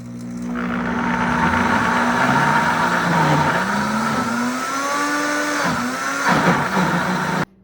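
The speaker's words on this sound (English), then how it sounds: "add it to the blender to make it easier for it to get nice and pureed" A kitchen blender purees cauliflower soup for a turkey cheeseburger soup. The motor roars loud and steady for about seven seconds, its pitch shifting as the contents churn, then cuts off abruptly.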